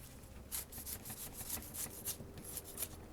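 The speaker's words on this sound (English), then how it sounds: "I'm basically just kind of sawing off the outer husk all the way down to the hard nut." A chef's knife saws through the fibrous outer husk of a coconut, cutting down to the hard nut: repeated close, raspy rubbing strokes in an even rhythm, with no talking.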